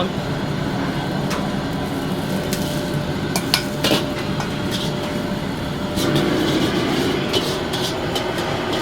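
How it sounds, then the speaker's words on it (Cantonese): A Hong Kong chef stir-fries dried chilies over low heat in the same wok just used to sear lamb, giving a continuous soft sizzle with occasional sharp clinks of the spatula against the metal wok. "跟住我哋原鑊 再炒呢個辣椒乾"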